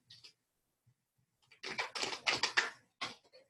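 Tarot cards shuffled and dealt by hand, a quick flurry of crisp slapping riffles after a couple of faint early flicks, ending with a few separate card snaps, close and fairly quiet with no talking.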